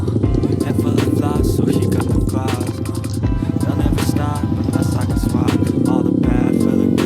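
A trail motorcycle labors across slippery, muddy ground in heavy rain, its engine droning loud and close with constant revving, the tone rising and falling as the rider throttles gently.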